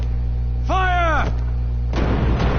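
Cannon fire from a pirate ship in Kingdom Hearts II: heavy booming blasts land over a constant low rumble, with a sustained tonal whoosh in between and a final burst near the end. A voice briefly shouts over it.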